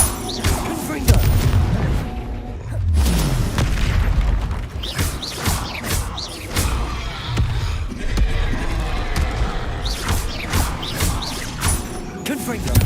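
Booming Confringo blasting-spell explosions in Hogwarts Legacy fire again and again through a dense, loud stretch of game combat. Sharp impacts and crashes land over a constant rumble.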